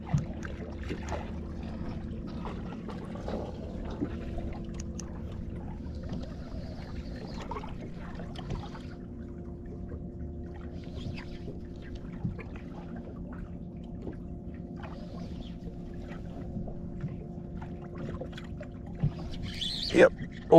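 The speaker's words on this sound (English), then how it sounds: "this live well's making all sorts of weird noises" Pumping and gurgling water from a boat's live well runs steadily alongside a low hum, with occasional splashes and knocks, and people's voices drifting in now and then during a fishing outing.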